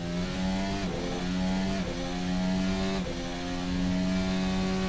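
A race car downshifts through a turn at Watkins Glen, its loud engine note dropping in pitch in several quick steps between rising revs, heard up close and sustained throughout.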